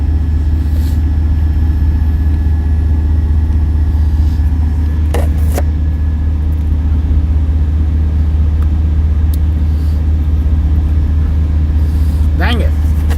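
Steady low engine drone and road rumble inside a truck cab while driving, loud and continuous, with a few brief clicks and knocks. A voice talks quietly under it at times.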